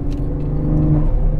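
A car's exhaust burbles steadily at idle, a close, low, continuous rumble with a faint uneven pulse and no one speaking.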